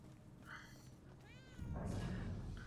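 A cat meows a few times in the video game Murdered: Soul Suspect, short clear calls that are faint and quiet, over soft game ambience.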